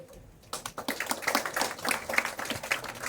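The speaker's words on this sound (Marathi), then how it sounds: "मी सांगितलंय टाळ्या वाजवायला बंधन नाही," An audience claps in a hall, a dense burst of hand claps that starts after a brief quiet moment and continues unevenly for a few seconds.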